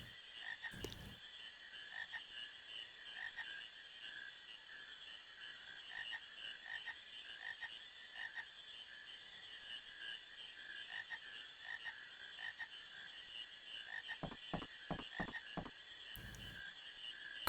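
Frogs croak in a marsh in the Final Fantasy IX video game, a steady, even chorus of rhythmic croaks over a soft ambient drone, with a few sharp clicks and taps scattered through it.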